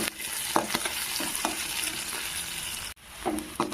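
Cumin seeds fry in hot oil, giving a close, continuous crackling sizzle punctuated by several stirring scrapes, with a brief break near the end.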